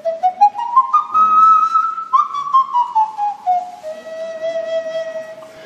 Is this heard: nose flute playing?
yes